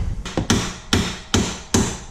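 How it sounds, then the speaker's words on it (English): Heavy metal hammer strikes ring out one after another, five loud sharp blows in a steady rhythm, knocking bolts out of a 2019 Ford Mustang. "Go ahead and get our hammer and hit these guys out."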